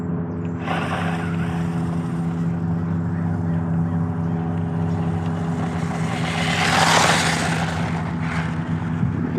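A JJRC C8803 Pro RC rally truck's electric motor runs at full throttle, a steady close whine with a buzzing hum that holds for the whole stretch and swells louder and brighter for a moment near the end.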